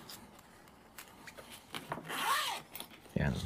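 A zipper on a small accessory pouch for a DJI Neo drone is pulled in quick rasping strokes, ending in a louder scrape. The sound is close and fairly quiet, with a brief rustle of handling.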